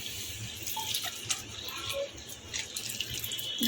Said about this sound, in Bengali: আমি জল দিয়ে দেবো সেদ্ধ খাওয়ার জন্য ঢেকে দেবো